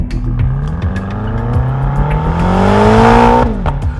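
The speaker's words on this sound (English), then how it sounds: "Off the line, the Panamera GTS's superior all-wheel drive traction gives it an advantage over the M5's rear wheels only power delivery." Porsche Panamera GTS and BMW M5 launching in a drag race: a loud rising engine roar climbing through the revs, then a sharp shift drop near the end, with no talking.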